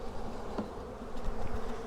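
A dense, steady buzz of many honey bees from a package installation fills the air up close as they are shaken from a box into a hive, with faint rustling underneath.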